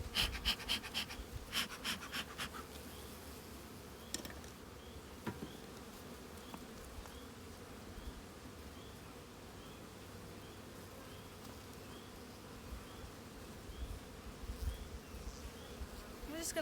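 Honey bees hum steadily at an open hive of calm bees, a dense, continuous drone close by, with a few sharp clicks and knocks from hive handling early on and no talking.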